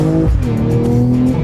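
A BMW M240i xDrive G42 coupe accelerates hard with a loud, rising engine note that holds steady and close throughout, with a faint hint of tire noise.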